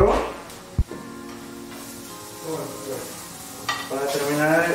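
Vegetables with tomato sofrito and a seasoning powder sizzle in a seafood paella pan, a steady frying hiss with a sharp clink of a utensil and occasional stirring scrapes.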